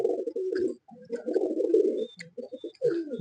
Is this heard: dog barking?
no